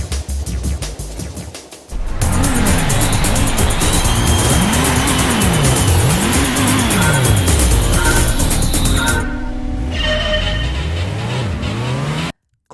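Racing car engines from the PlayStation game Gran Turismo roar loudly with repeated revving swells and gear changes, tires squealing along the way, cutting off abruptly near the end.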